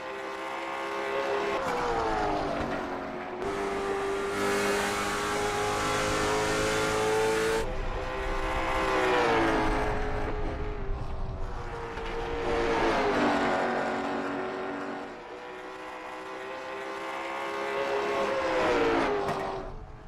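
A race car circling an oval track, its engine note rising and falling in long sweeping waves as it passes through the turns and straights, loud and alone with no talk.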